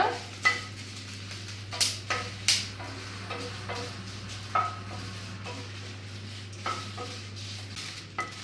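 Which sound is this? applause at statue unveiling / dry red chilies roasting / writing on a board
dry red chilies roasting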